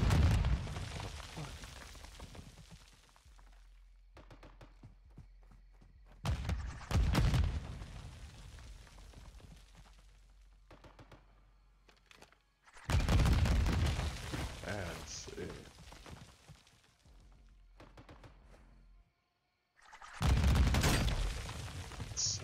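Video game firefight with heavy bursts of gunfire and booming explosions in several loud waves separated by quieter gaps, with voices heard between the blasts.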